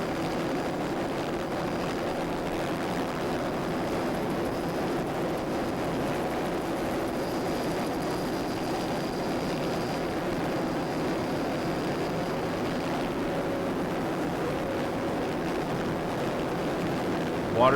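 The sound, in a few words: Fountain powerboats racing in rough water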